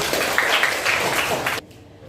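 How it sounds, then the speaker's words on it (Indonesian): Classroom students clapping for a classmate, a dense burst of applause that fills the room for about a second and a half, then stops abruptly into quiet. "kita tepuk tangan buat Halim."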